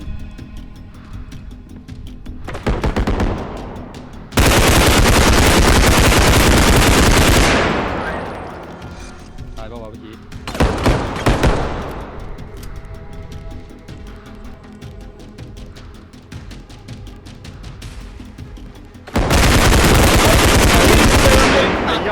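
Gunfire in the realistic shooter game Bodycam: loud, sustained automatic bursts lasting several seconds each, separated by quieter stretches with a few shorter volleys.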